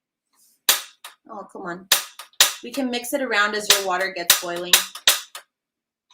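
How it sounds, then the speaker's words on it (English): A kitchen gas stove igniter clicks as the burner is lit during a cooking demonstration, a series of sharp, loud snapping clicks spread through the passage and mixed in with someone talking. "Sorry, I'm turning on my stove here."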